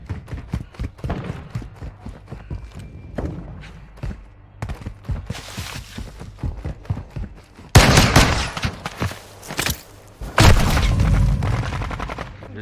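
Pistol gunfire rings out in a first-person shooter match, rapid sharp shots in quick irregular strings with a couple of louder, denser bursts of fire late on and no talking.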